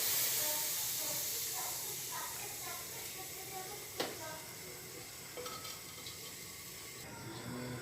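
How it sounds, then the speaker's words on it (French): Boiling water poured into a simmering sauce for a cauliflower and potato gratin, giving a broad hiss and steamy sizzle that slowly fades, with a couple of small clinks near the middle and a voice speaking over it. "Je mets l'eau dans la sauce. C'est de l'eau bouillante."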